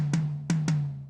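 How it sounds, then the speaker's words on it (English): Three dry drum tom hits run through a compressor, short and punchy with quick decay over a low sustained tone, sounding alone at close range. "Here's the toms dry with the compressor"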